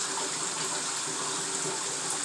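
Water pours steadily into a bathtub, a constant close gushing hiss with no breaks.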